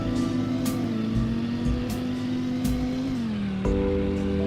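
A Chevrolet Corvette sports car, likened to the Grand Sport, drives on a road test with a steady engine hum that climbs slightly in pitch, then drops at a gear change, punctuated by brief clicks and knocks.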